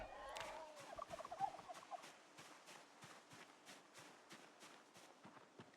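Turkeys gobbling faintly in a video game, a brief burst of gobbles early on, then soft repeated footstep-like taps continuing in the background.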